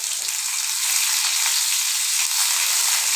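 Chopped onion is frying in hot oil with black cumin, giving a loud, dense, continuous close-up sizzle for a few seconds with no talk.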